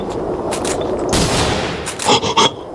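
Gunfire from the video game Hidden, a dense burst of loud shots followed by a few separate sharp cracks near the end, with no talking.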